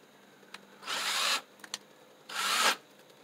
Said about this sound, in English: I'll drill the hole about right here